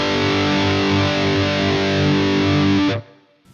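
An ENGL Savage 60 Mark II amplifier blasts a thick, heavily distorted metal guitar tone in a sustained ringing chord that cuts off abruptly near the end, leaving a brief fading tail.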